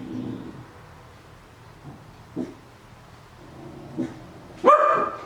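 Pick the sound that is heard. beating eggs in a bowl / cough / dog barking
dog barking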